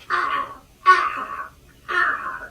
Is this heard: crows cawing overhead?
yes